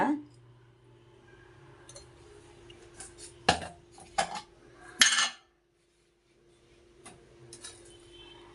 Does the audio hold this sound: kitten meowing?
no